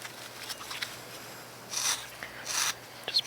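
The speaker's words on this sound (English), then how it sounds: "you take the sanding block" Quiet scratchy rasping strokes of a sanding block on carved wood, a few short bursts of abrasive rubbing, close and soft with pauses between.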